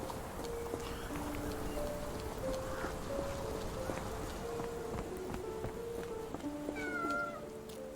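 A cat meows in a video game, the mews faint and mixed into busy game sound, with a few short tones and a steady patter like rain beneath it throughout.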